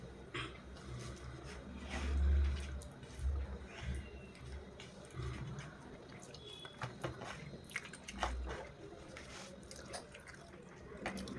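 Fried eggplant (begun bhaja) eaten with rice, heard as soft, close, wet chewing and biting with a few louder crunchy bites and moist squishes scattered irregularly throughout.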